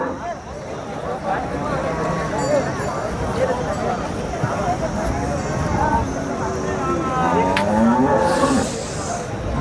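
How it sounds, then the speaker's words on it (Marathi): Jersey cows at the Gevrai cattle market low and moo repeatedly, with a long drawn call near the end, over steady crowd murmur and people talking nearby. "गाई बघू शकता तुम्ही,"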